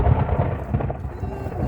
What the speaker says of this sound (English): thunderstorm coming in.